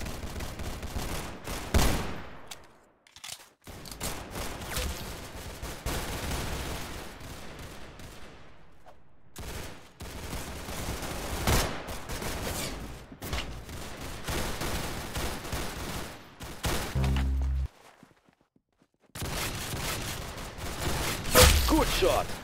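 Gunfire in the Roblox shooter Arsenal: long rapid bursts of automatic fire in bright, dense volleys, broken by short pauses and a few heavier booms, loud and close throughout, with game voice lines mixed in.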